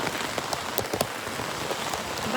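Heavy rain pours down in a dense, constant hiss with scattered nearby drops pattering on a surface, steady and close with no voices.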